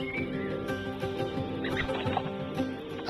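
A pair of stock doves call near a nesting elm stump, their low cooing running steadily across a busy outdoor background with no talk.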